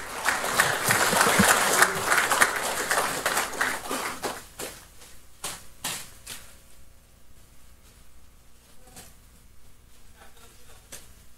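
A crowd gives loud applause as a presidential candidate enters a press conference hall, the clapping strong at first and then thinning into scattered claps and sharp shutter-like clicks before fading to a low murmur.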